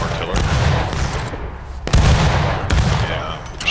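Heavy booming fire in a Civil War battle game, with low thuds and crackling blasts layered continuously, sharper bursts landing near the two- and two-and-a-half-second marks.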